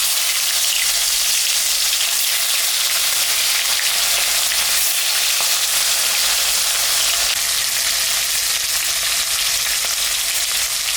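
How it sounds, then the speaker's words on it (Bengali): Loud, constant crackling sizzle of mrigal fish frying in hot mustard oil, dense and unbroken throughout, with no voices. "তেলটা গরম হয়ে গেছে, আমি এখন মাছটা ভাজে নেব।"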